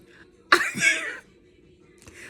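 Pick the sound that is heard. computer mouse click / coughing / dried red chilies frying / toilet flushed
coughing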